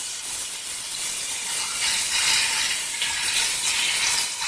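Ground beef and onion frying in a pan make a steady, close, loud sizzle with a dense hiss that runs unbroken throughout, with no talking.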